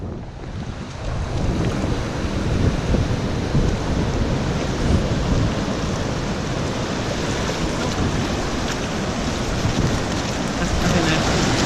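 Storm wind and heavy surf roar on a West Wales beach as a storm dies down, a dense, continuous rush of breaking waves and wind buffeting the microphone for the whole stretch, with no speech.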